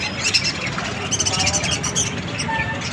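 Many small birds, lovebirds and cockatiels, chirp and squawk together in a pet bird shop, a dense overlapping chatter of calls with people's voices mixed in the background.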